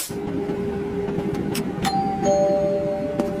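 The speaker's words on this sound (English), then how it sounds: "I pressed the call bell." An airplane cabin call bell chimes, a clear bright ding, then a second tone, ringing out over the steady low hum of the cabin with no talking.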